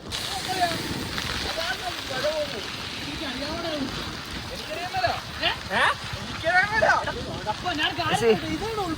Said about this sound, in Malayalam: നല്ല മഴയത്താണ് നമ്മളിപ്പോൾ വന്നേക്കുന്നത്